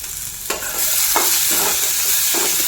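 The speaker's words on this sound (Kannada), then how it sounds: "ಚೌಳಿಕಾಯಿನ ಹುರ್ಕೋಬೇಕು ಚೆನ್ನಾಗಿ ಹುರ್ಕೋಬೇಕು" Cluster beans stir-frying in a pan, with a continuous hiss of frying and a few distinct scraping stirs of the spatula spaced across the moment.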